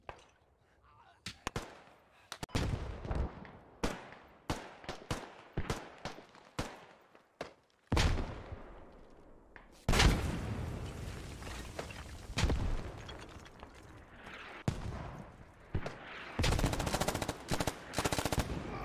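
Rapid bursts of gunfire in a squad shooter video game, sharp repeated shots in clusters with pauses between them, loud and close, while a voice talks now and then.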